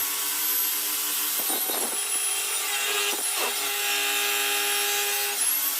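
A table saw cuts wood, its high steady blade whine running throughout with a few brief bursts of rougher rasping as the stock feeds through.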